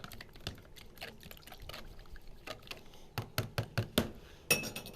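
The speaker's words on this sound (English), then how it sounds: "We're just going to mix this just until the eggs are mixed into the water and the hot sauce." A fork beats eggs, water and hot sauce together in a bowl for fried zucchini, giving a close run of light clinks and taps that grow sharper and more spaced toward the end, with no talk.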